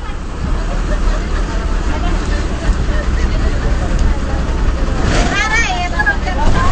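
A Tenali depot bus bound for Tippalakatta pulls out, its engine rumbling low and steady beneath a constant babble of passenger chatter, with a brief squeal near the end.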